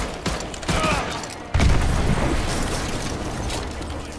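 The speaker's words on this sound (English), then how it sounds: "Those explosions are going to attract a lot of attention." Explosions in the video game Call of Duty Modern Warfare 2, loud rumbling blasts and a burst of debris noise that swell mid-clip and roll on under sustained battle clatter.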